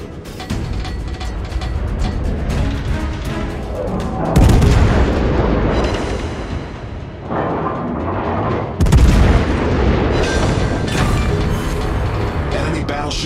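Naval gunfire in a World of Warships-style battle game with the Des Moines cruiser, two heavy booming salvos landing over a continuous roar of engine and sea noise.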